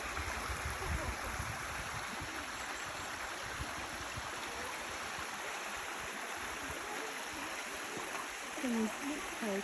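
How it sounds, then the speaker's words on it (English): A waterfall on a holiday outing in Cornwall rushes as a steady, loud broadband roar of falling water that fills the whole clip, with faint low knocks and brief murmurs in the background. "Yeah, that's the waterfall."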